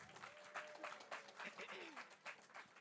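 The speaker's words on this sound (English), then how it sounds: "Let's give another round of applause," Audience at a college valedictory session applauds, a faint, fairly distant patter of clapping under a speaking voice.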